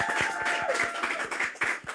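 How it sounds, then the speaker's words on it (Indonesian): Small studio audience clapping on a food podcast, a loose rhythm of distinct close claps from a few people, light and sparse, with faint voices in the background. "Tepuk tangan dong."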